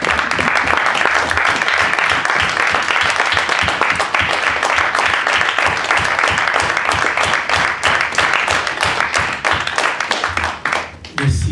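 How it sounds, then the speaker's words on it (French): Church congregation applauding at a French-language service, a dense, steady roar of many hands clapping that fills the room and fades out at the end. "Une main d'acclamation pour la parole de Dieu."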